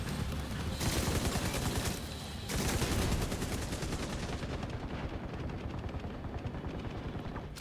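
Sustained video game gunfire in The Division 2, dense rapid bursts of automatic shots with a heavy, close, continuous barrage that thins slightly toward the end, with no talk.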